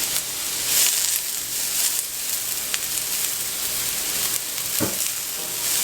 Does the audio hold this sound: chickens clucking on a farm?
no